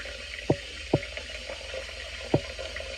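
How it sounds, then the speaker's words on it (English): Water splashes at a bathroom sink as a face is wetted before a wet shave: a steady running tap underneath repeated cupped-hand splashes, close and rhythmic. "let me wet my face"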